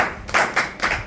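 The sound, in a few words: audience clapping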